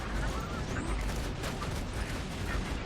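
Automated turrets in the shooter game Borderlands 2 fire in a dense, continuous barrage, layered with explosions and mechanical clatter.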